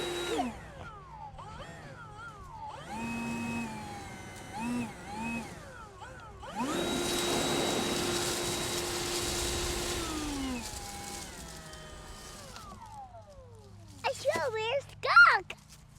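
A Milwaukee M18 battery leaf blower spins up to a steady, loud whooshing whine for a few seconds, then winds down, with children's voices chattering before and after.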